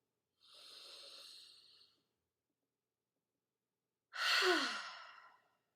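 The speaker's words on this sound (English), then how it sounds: "First, a cleansing breath." Cleansing breath during a yoga and meditation session: a long, soft airy inhale followed after a pause by a louder, sighing exhale, close and with no talk.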